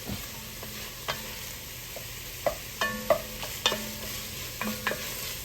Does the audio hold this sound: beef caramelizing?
yes